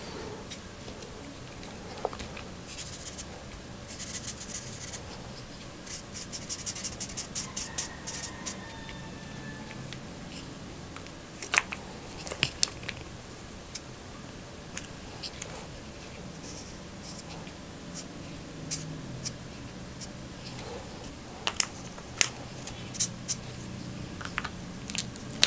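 A thick black pen scratches across paper while a simple caricature of a family shopping is drawn, producing soft, uneven strokes with small ticks and taps, quiet and close throughout.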